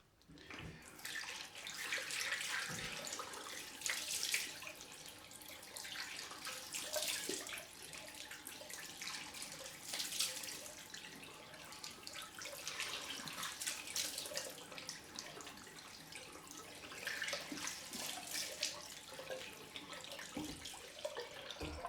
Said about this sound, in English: what I'm going to do now is have a rinse off